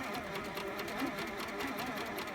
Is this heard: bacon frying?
no